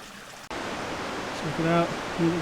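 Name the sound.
river flowing in Linville Gorge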